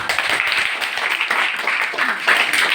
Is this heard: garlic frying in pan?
no